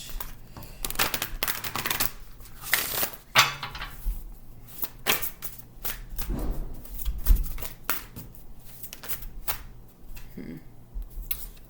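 Tarot cards are shuffled by hand, giving a string of crisp, irregular riffles, slaps and taps close to the mic, with quiet pauses between bursts.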